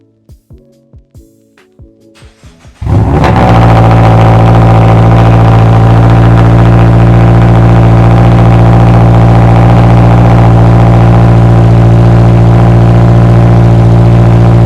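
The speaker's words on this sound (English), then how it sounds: "so we can pretty much cold start the car" A Toyota GR86 fitted with unequal-length catless headers and no catalytic converters cold starts: a few clicking starter cranks, then the engine catches with a loud, raw roar and settles into a steady, droning high idle right up close.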